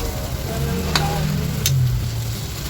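Eggplant fries in hot oil with a close, steady crackling sizzle and a couple of brief sharp ticks from the pan.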